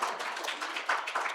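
An audience at a Bay Area scientific symposium breaks into applause: a dense wash of many hands clapping, steady and fairly loud, with small swells throughout.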